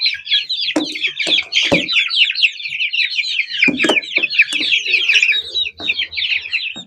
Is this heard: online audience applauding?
no